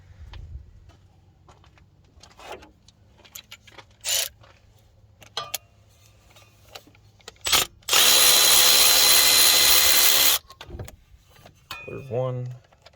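A power tool runs in one loud, sustained burst, stopping and starting around it, while 14 mm bolts are taken out of a 1997 Jeep Grand Cherokee with a V8 engine during a power steering pump bracket installation, with clicks and handling noises nearby.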